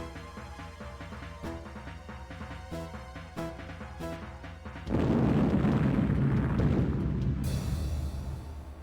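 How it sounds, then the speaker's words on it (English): An antimatter explosion in the video game Ringworld: Revenge of the Patriarch erupts as a loud, sustained rumbling blast over a rhythmic musical score, swelling abruptly and roaring for several seconds before fading. "it is possible that I underestimated the force of an antimatter explosion"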